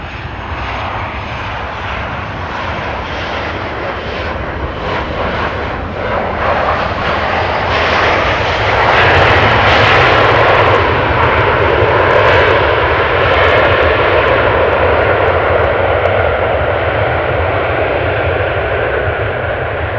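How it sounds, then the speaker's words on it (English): A KLM Boeing 737 lands at Amsterdam Schiphol, its engine roar building loud and close before peaking in a broad rushing blast midway, then holding strong as it rolls past. "from the other side is a landing airplane, KLM 737"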